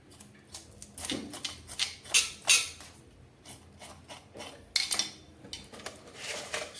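Live, slippery fish being scaled and cut with a blade, giving repeated crisp scraping and rasping strokes in uneven bursts, close and moderately loud, with no talking.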